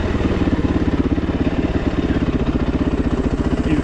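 A motorcycle engine braking in first gear while rolling down a steep, rocky green lane, a steady close rhythmic thudding and clatter that holds throughout with no pause.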